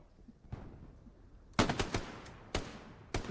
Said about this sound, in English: And Ivanovic going to use that shotgun again